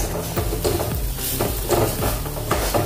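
Turmeric, cumin and red chilli powder being stirred into a spinach and radish curry in a pan: a continuous soft sizzle with rhythmic scraping strokes of a spoon, close and steady, no talking.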